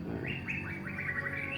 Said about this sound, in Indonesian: bahkan ada burung itu ya teman-teman